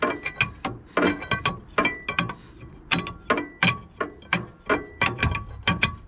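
The seized engine of an International 125E track loader is turned over by hand: a rhythmic run of sharp metallic ratcheting clicks and clunks, close and fairly loud, repeating in quick bursts with no talk.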